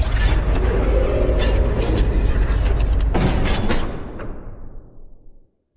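The Tower Rising and Tower Stop effects from Hyper Light Drifter play back to back: a loud, heavy grinding of gears and ratcheting machinery that ends in a deep boom and a long rumbling fade.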